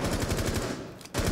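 Rapid automatic gunfire from an enemy shooting at a wall in Rainbow Six Siege, loud sustained bursts with a brief lull near the end before the firing resumes.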